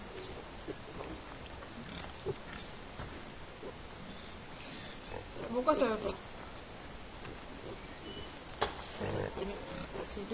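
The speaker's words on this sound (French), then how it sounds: "J'ai des cochons." Pigs grunt on a farm in the video game Farming Simulator 2015, with a short burst of grunting midway under low background noise while someone speaks.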